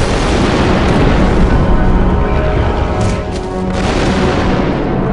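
A demolition charge detonates in Star Wars Republic Commando on Geonosis, a loud, close blast followed by a sustained heavy rumble that fills the whole moment.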